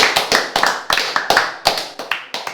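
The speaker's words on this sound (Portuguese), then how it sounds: "Mas eu queria uma grande salva de palmas ao Paulo Ferreira." A few people clap for a stand-up comedy guest, sparse and uneven, with a dozen or so distinct close claps in a loose, irregular rhythm.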